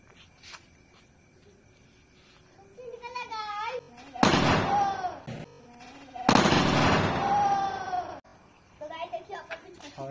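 A homemade Diwali toy gun is fired outdoors at night, giving two loud, long bursts of blasting crackle. Voices talk and call out before, between and after the shots.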